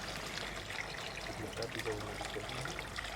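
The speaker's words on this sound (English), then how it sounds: "Water is added to the container." Water pours steadily into a container of seeds with a continuous trickling, splashing rush, close and unbroken, with no voices.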